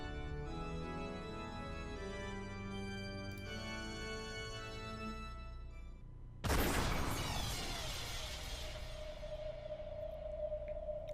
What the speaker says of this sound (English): when number 3 was yelled, the sound of gunfire rang out once